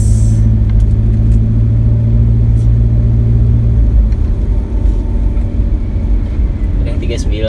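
A Toyota Avanza car engine runs on the road with a steady, loud low rumble throughout. The car has a humming alternator. A voice talks over the drone.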